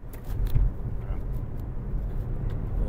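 A Honda Accord CL9 pulls away at the start of a test drive, its engine a low steady hum with cabin rumble and a brief jingle of keys near the start.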